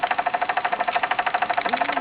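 A Merit SEL 1540 standard toy steam engine running smoothly with a steady, rapid chuffing beat, close and fairly loud, with a brief mechanical slide near the end.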